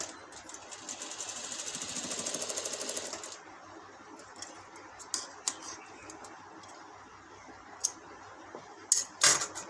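A sewing machine stitches a lace strip onto a long designer kurti, running steadily for a few seconds and then stopping, followed by faint handling clicks and fabric rustles.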